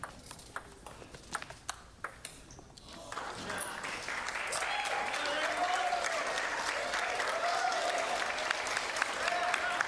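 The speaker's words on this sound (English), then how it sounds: "Crowd getting into it." Spectators at a collegiate table tennis men's final in Plano, Yamazato versus Ramesh, break into growing applause and cheering, starting with scattered ball pings and claps then swelling into sustained crowd noise with voices rising over it.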